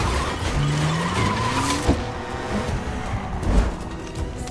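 A speeding car in a movie chase, its tires squealing in long rising skids over a revving engine, with a sharp thud midway and another impact near the end, loud and close.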